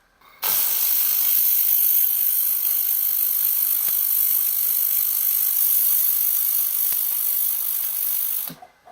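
A handheld laser welder runs steadily on metal plates with wire feeding at 10 mm per second and a 4 mm weld width, giving a continuous loud hiss that starts abruptly and cuts off near the end.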